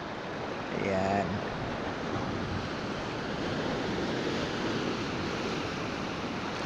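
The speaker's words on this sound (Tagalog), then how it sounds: "Katahimik dito. Alon na lang yung maririnig mo." Ocean waves wash continuously onto the shore at El Nido, Palawan, a steady broadband surf roar with light wind buffeting, loud and close with no talk over it.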